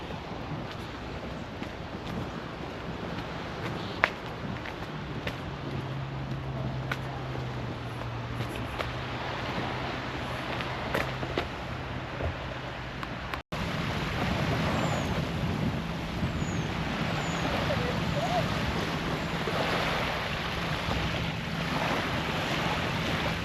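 Waves break on a beach near the entrance to Port Phillip Bay on the Mornington Peninsula at Rye, heard as a continuous rushing surf wash with heavy wind buffeting the microphone throughout.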